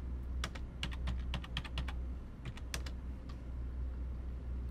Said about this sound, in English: Open a web browser and type it in.